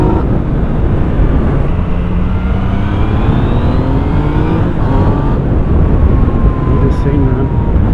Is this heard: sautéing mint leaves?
no